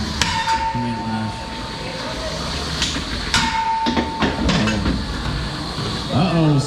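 Combat robots at a small-arena summer showdown tournament, with sharp metallic impacts and clanks against each other and the arena wall, scattered irregularly amid a commentator's voice and crowd noise.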